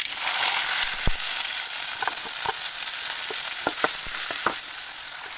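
Onion, cumin and curry leaves fry in hot oil for a cabbage dish, giving a steady loud sizzle throughout with scattered sharp crackles and pops close by, and no talking.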